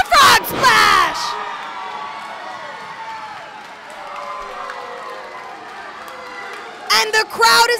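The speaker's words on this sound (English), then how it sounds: "And the crowd is on fire." A wrestling crowd at a championship match cheers and shouts in loud bursts at the start and again at the end, with a commentator talking over a quieter stretch in between.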